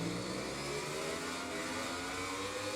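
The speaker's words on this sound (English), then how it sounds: "So here's Stone revving up then from the second row" A racing motorcycle engine in the MotoGP 20 video game revs on the grid for a race start at Misano, holding a steady, loud, droning mechanical whine for the whole stretch.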